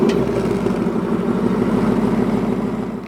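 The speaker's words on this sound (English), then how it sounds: "on the key fob we also have the remote start feature" A 2018 Ford Mustang GT Premium engine started by key fob remote start, heard as a steady, loud, low idle rumble with even pulsing that continues throughout, with no talking.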